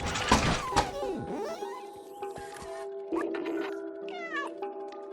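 A cat meows repeatedly in short, clear calls with a few soft thumps between them in the video game Stray, close and fairly loud, with no one talking.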